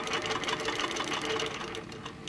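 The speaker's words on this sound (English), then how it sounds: "I'm going to sew and just pull my machine about 1/2 inch forward." A longarm quilting machine on a frame sews steadily, its rapid, even needle rhythm a close, continuous mechanical hum that eases off slightly near the end.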